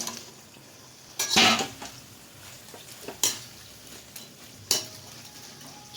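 Chicken pieces stirred into a cornflour sauce for chilli chicken in a pan, with several distinct clanks and scrapes of a spoon against the metal spaced a second or two apart over a soft sizzle, no speech.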